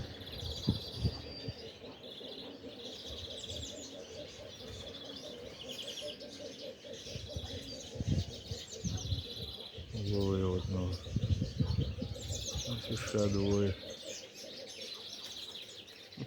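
Pigeons cooing and chirping outdoors, soft repeated coos and bursts of small chirps from birds nearby, fairly quiet with someone talking intermittently over them.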